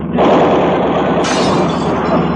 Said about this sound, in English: Yeah, broken glass.